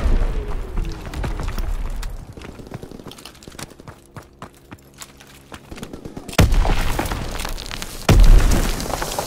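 Artillery battery strikes in a video game, with scattered sharp cracks and thuds, then two heavy booming explosions about two seconds apart that crash loud and close, under faint game sounds.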